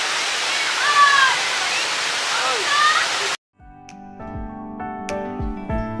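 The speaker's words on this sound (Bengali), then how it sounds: "এই উষ্ণী জলপ্রপাত ঝাড়খণ্ড রাজ্যের গিরিডি জেলায় অবস্থিত" Usri waterfall in Giridih district, Jharkhand, roars as a steady broadband rush with faint whistle-like tones over it, then cuts abruptly to a quieter scene with tonal music-like sounds.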